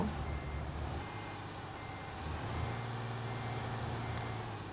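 A vehicle's reversing alarm beeps faintly over a steady low engine and road rumble, with no voices heard.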